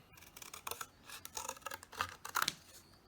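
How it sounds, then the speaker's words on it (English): Scissors cut through thin cereal-box cardboard with a series of crisp, close snips and rasping slices, several cuts in an uneven rhythm, quiet and with no talking. "I took this from a cereal box, and cut out a rectangle."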